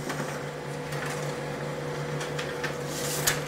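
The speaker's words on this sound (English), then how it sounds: "The print will come out right over here." A Brother laser printer running a print job gives a steady mechanical hum with faint clicks and a brief louder clatter near the end, heard close up with no talking.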